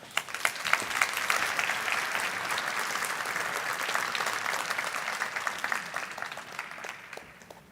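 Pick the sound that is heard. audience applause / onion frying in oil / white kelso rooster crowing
audience applause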